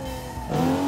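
A car accelerating hard in the BeamNG.drive driving game on a handling circuit, its engine note holding steady and then rising in pitch and loudness over a brief moment, with no talking.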